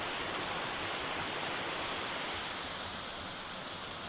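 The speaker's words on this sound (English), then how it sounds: "Got the beautiful waterfall." Waterfall on a hiking trail on Tongariro, New Zealand, a dense, steady roar of falling water heard alone without any voices.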